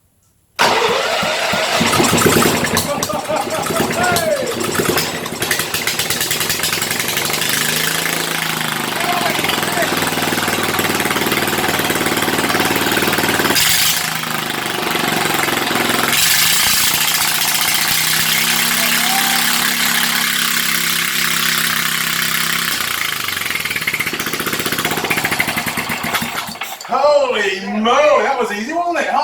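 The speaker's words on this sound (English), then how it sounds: "Scrap engine runs." A small Briggs & Stratton petrol engine from scrap catches and runs with a loud steady buzz for a long stretch, its pitch shifting, then cuts off as people cheer and shout.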